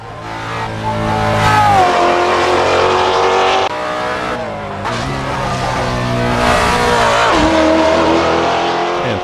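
A Maserati GT4 race car accelerates hard through gear changes at a speed festival, engine note climbing, dropping briefly at each shift and climbing again, loud and close.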